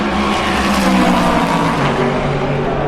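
Race cars roar along the Le Mans start-finish straight opposite the pit boxes, a dense continuous engine din echoing off the grandstands, loud and unbroken with no talk.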